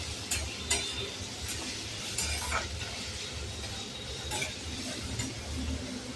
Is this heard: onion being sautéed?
yes